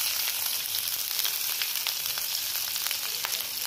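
Grated ginger and chopped green chillies fry in hot mustard oil, a steady close bright sizzle with fine crackling throughout and no voices.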